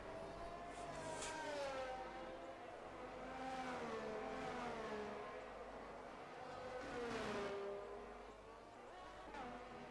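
A race car engine laps the French GP circuit in a sim racing league game, its tone rising and falling through upshifts in a continuous, fairly loud drone with no break.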